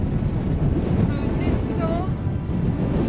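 Strong wind buffets the microphone in Iceland's wild mountains, a dense, steady low roar running without a break and drowning out any other sound.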